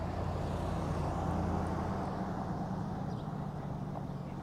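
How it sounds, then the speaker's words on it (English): Garbage trucks on collection day rumble at a distance through a residential historic district in Jackson, Wyoming, a steady low engine drone over outdoor ambience, no voices. "I hear the garbage trucks"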